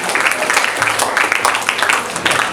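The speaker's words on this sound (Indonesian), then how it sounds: "Bisa kita kasih tepuk tangan sekali lagi untuk para penghafal mata Tuhfatul Atfal." Audience applause for Quran memorizers at a boarding school graduation ceremony, a crowd clapping in a steady patter for a couple of seconds.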